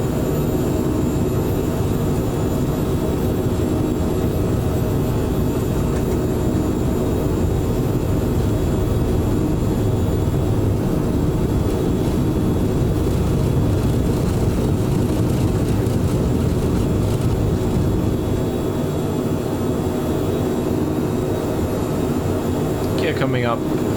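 Phenom 100 business jet on its takeoff roll in Microsoft Flight Simulator 2024, a steady loud broadband engine roar with a faint whining tone, continuous throughout with a brief sharp sound near the end.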